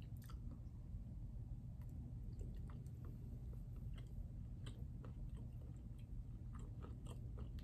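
Quiet, close chewing of a peanut, caramel and marshmallow nougat bar coated in milk chocolate, soft irregular crunches and squishy bites over a steady low room rumble.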